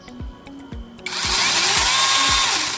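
A Dasher battery chainsaw fitted with a Makita-style battery clicks a few times, then whirs up to a loud, steady high-pitched run close by.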